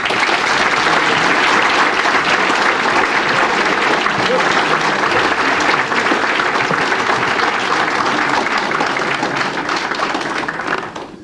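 A luncheon audience at a space development conference gives sustained applause to welcome astronaut Rusty Schweickart, dense and loud clapping from a large crowd holding steady for about ten seconds before tapering off.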